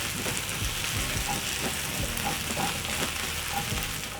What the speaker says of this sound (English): Then I'll stir.